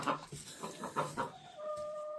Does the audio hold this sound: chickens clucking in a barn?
yes